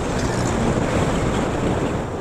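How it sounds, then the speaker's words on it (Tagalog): Strong wind buffets the microphone at Ataki Falls in Tuba, Benguet, with a constant low roar and rumble, steady and loud throughout, with no voices. "Pasensya na kayo kung hangin yung maririnig nyo."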